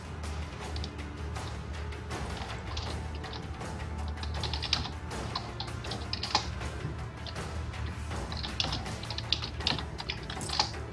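Someone types on a computer keyboard in a steady run of close, rapid clicks and taps over a low background hum, with a few sharper keystrokes toward the end.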